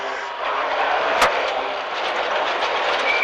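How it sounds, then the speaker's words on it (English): A small stone strikes the underside of a rally car with one sharp, brief tick, heard over the loud, steady road and engine roar inside the cabin. "Made a noise then, Frank, that little stone"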